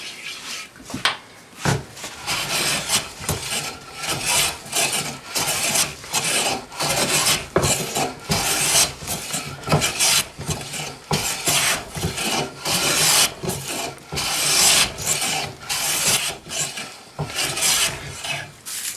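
Steady back-and-forth rasping of a blade shaving wood on a coffee table, eased with a little wax, repeating in close, even strokes for the whole stretch with no talking.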